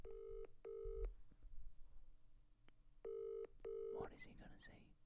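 Telephone keypad dialing tones, two steady bursts of paired tones near the start and two more near the three-second mark, followed by a phone voice and people talking in the background.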